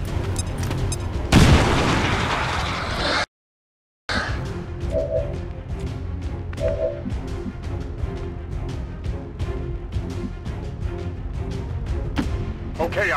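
Bombs explode in the XCOM 2 video game with heavy booms and sharp bursts, a loud blast early on, a brief silent gap, then repeated thuds and crackling impacts under game sounds.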